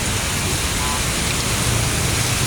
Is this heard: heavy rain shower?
yes